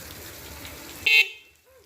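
A single short horn beep from a solar e-bike sounds up close, cutting through steady road noise and leaving quiet behind it.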